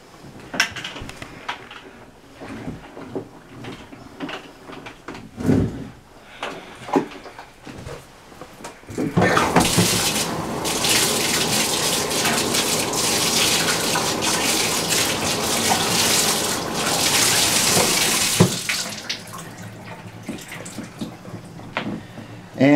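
Water runs steadily from a tap over M40 gas mask parts being rinsed, a loud continuous splashing rush lasting about ten seconds, bracketed by quieter clatter and handling of the pieces before and after.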